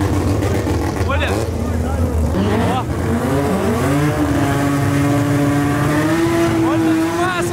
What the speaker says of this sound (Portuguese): Mano, olha os barulhos de carro, velho!